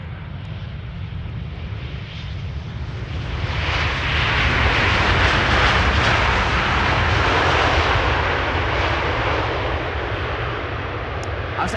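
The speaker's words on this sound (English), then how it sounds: "This is military. Is that a C-17?" A military C-17 jet lands at Amsterdam Schiphol Airport, its loud broadband roar swelling as it nears, peaking in the middle, then easing off while staying strong.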